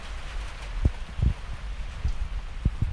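Steady Sunday-evening rain patters outdoors, with a few louder drips and thuds landing close by over a constant wet hiss.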